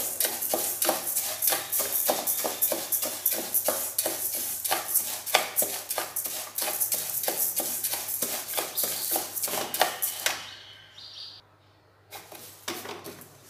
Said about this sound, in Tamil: பாசிப்பருப்பை வந்து நல்லா வாசனை வர்றது வரை வறுத்துக்கலாம்.